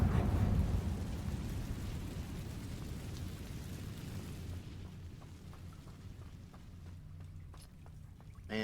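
A Confringo blasting spell explosion in the video game Hogwarts Legacy: a heavy, booming blast that opens loud and decays into a long rumbling roar, thinning out toward the end.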